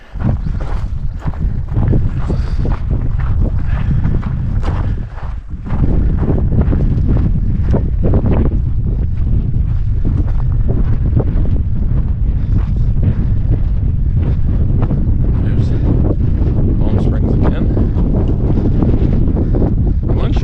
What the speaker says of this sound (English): It is cold and windy up here.